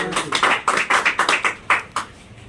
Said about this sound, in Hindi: एक बार इसके लिए ताली बजा दीजिए जो।